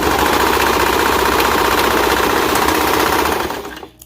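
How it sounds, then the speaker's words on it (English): A serger overlocks the raw edge of a child's romper seam, a loud, rapid mechanical chatter running steadily for several seconds before winding down and stopping. "so we're just gonna serge down the edge here"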